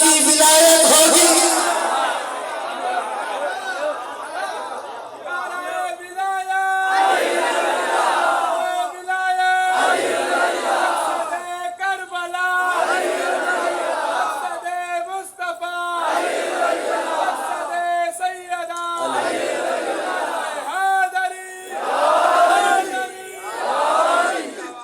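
A crowd at a Muharram majlis in an imambargah chants a religious slogan in unison, loud repeated phrases with short pauses between them.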